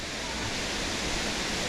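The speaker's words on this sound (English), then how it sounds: "Oh, beautiful waterfall." A 35-metre waterfall in a Brazilian rainforest gives a dense, constant roar of falling water, close and loud throughout.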